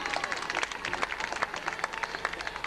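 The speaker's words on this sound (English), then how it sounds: "give her a clap, ladies and gentlemen" Scattered clapping from a crowd at a 1989 church fete after a race, a loose patter of hands rising and falling, mixed with faint voices, fairly distant.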